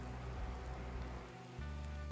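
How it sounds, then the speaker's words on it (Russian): Light, fine rain patters softly and steadily on a surface in a forest during a hike, faint and continuous with no voices. "И в лучших традициях моих походов начался дождь."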